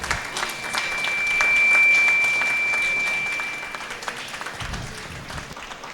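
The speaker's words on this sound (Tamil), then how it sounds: "நல்லா கைதட்டுங்க." Applause from a school audience at a Republic Day event, steady clapping that swells in the middle and fades, with a faint steady tone running through it.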